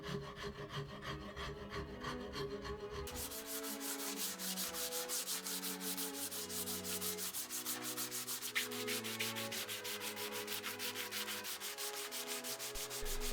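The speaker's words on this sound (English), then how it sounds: "I use a rasp to shape the handle and I finish it off with some sandpaper" A wooden axe handle is worked by hand with a rasp and sandpaper, giving a steady run of close, rhythmic rubbing and scraping strokes that continues alone throughout.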